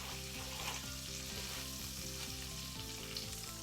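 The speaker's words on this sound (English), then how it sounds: "has been frying in the pan for about 5-10 minutes now" Stuffed squid frying in a pan for a Catalan-style dish, a steady, close sizzle with continuous spattering and hissing throughout, no voices.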